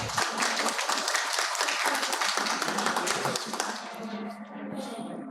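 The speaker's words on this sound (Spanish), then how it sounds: "un aplauso para el profesor Cohen, por favor." An auditorium audience applauds a university professor at a 140th-anniversary event of the Universidad Externado de Colombia: dense, close clapping that thins out and fades over the last second or two, with some voices mixed in.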